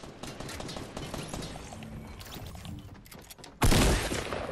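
A submachine gun in Fortnite Battle Royale, rapid bursts of gunfire rattling in quick succession at moderate volume, ending in a louder, sharper blast.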